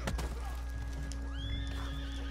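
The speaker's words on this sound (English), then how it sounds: "Oh, yeah, hello, my horse." Horse in Red Dead Redemption 2 giving a rising whinny over a constant low engine-like hum, with a few hoof clip-clops early on.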